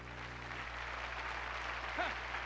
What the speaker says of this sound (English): You clap, okay.